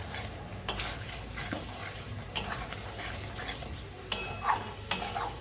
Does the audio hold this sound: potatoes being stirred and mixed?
yes